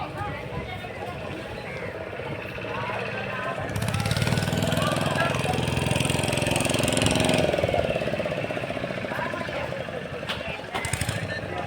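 A motor boat engine idles and then runs on Chilika Lake with a continuous close rumbling chug that swells partway through, while people talk nearby.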